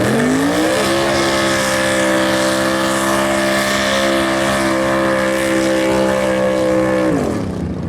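A drag racing car does a short burnout at a no-prep drag strip, its engine holding a loud, steady high roar for about six seconds before dropping away, close and alone.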